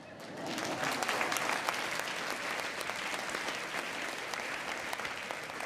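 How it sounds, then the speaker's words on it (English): Sustained audience applause fills a TEDx event hall at the JFK Memorial Library, steady and dense from start to finish with scattered individual claps standing out. "The whole crowd will clap for you."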